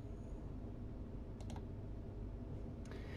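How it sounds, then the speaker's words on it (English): Two quick mouse clicks on a computer create button, close and crisp over a faint room hum, a pair of clicks near the middle followed by another pair near the end. "so what I'm going to do is click on create"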